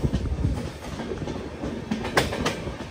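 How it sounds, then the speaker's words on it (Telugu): A Vikrama Simhapuri Amaravati Intercity Express rolls into Bapatla station, heard from on board with close, steady rumbling and rhythmic clickety-clack wheel beats over rail joints. "అదిగోండి బాపట్ల స్టేషన్కి అయితే వచ్చేసింది మన ట్రైన్."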